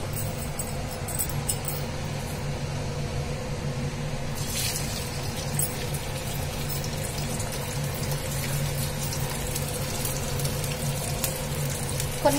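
Elephant foot yam chips deep frying in hot oil, a steady bubbling sizzle close by, with a burst of sharper crackling partway through as more pieces go in.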